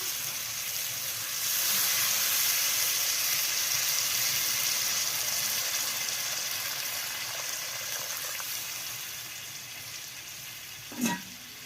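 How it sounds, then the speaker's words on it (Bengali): Water poured into a pan of sautéed cauliflower masala sets off a loud, steady broadband sizzle and hiss that swells early on and gradually eases, with a brief clink near the end; no one speaks. "এবার আমি জল দিয়ে দিচ্ছি।"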